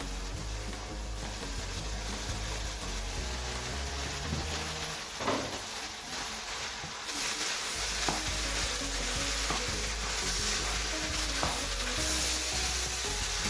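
Meat fries in a pan for a meat sauce, a continuous, dense sizzle that holds steady throughout, with occasional stirring scrapes rising briefly above the constant hiss.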